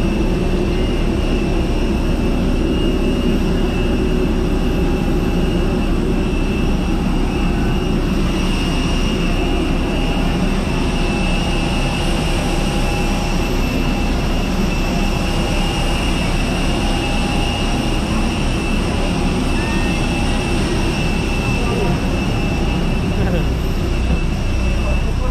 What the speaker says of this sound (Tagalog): Akyat na kami ng aeroplano. Philippine Airlines bound to Tacloban.